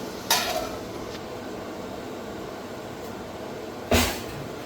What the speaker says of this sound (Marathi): मी आता याच्यावर झाकण ठेवते